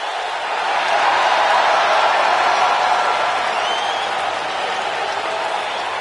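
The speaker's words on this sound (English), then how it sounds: "Listen to this Detroit crowd." Arena crowd applauding and cheering in a Detroit venue during a PS4 wrestling video game, a dense, steady roar of clapping and crowd noise held at high level throughout.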